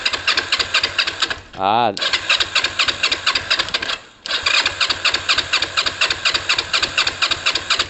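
A Kawasaki ER5 motorcycle with freshly cleaned carbs cranks and catches into a loud, rapid, uneven idle, surges with a rising rev, dies back to a cranking pause, then fires again into steady chugging, with a brief voice over it.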